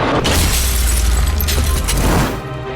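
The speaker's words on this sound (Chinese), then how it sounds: "灯泡烧到了一定温度，再加上它的表面粘着口香糖，灯泡爆炸了" A light bulb coated with chewing gum explodes: a loud, sustained blast with a deep rumble and shattering noise fills the air for a couple of seconds, then cuts off abruptly.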